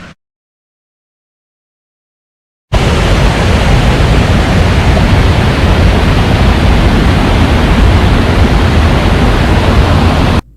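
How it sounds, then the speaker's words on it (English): Water flows beside the log cabin trails in Algonquin Park. After a few seconds of silence, a loud, steady, even rush starts abruptly and runs unbroken, then cuts off just as suddenly. "You can hear the water, hear the birds"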